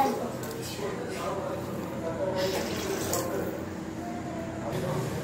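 Tap water runs steadily into a small vessel, a soft continuous splashing pour heard close but fairly quiet, with faint room noise around it.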